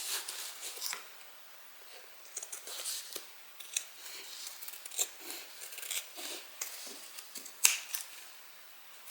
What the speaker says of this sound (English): make sure you trim back around these curves really well